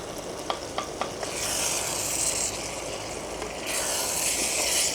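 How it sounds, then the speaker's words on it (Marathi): A pot of fish soup boils with a steady bubbling, hissing simmer throughout, with a few sharp clicks near the start; no voices. "हे पण मस्त उकळायला लागलं"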